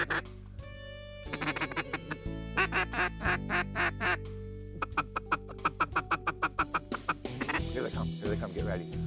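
Teal ducks quack loudly and repeatedly as they fly in during a late-season duck hunt in Missouri, with a rapid, insistent series of calls. Voices talk over the calling, which could be a hunter's duck call imitating the birds.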